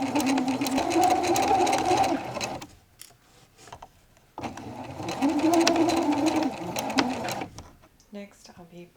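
Sewing machine stitching a French seam around a dress armhole with wrong sides together, two steady runs of whirring needle clatter separated by a short pause, close and loud.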